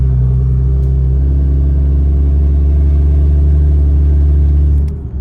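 BMW X3 M40i engine and side-skirt exit exhaust droning steadily at about 2,000 RPM in regular traffic, a loud, even low rumble that holds for several seconds and eases off at the end.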